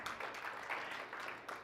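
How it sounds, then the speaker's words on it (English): Audience applauding in a conference lecture hall, a steady wash of many hands clapping at moderate volume with no voices over it. "Big round of applause"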